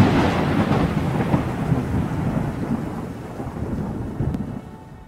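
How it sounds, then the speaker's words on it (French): Thunderclap with heavy rain, a loud rolling crash that slowly decays over a constant wash of rainfall, fading toward the end. "Pourquoi il y a eu un coup d'éclair?"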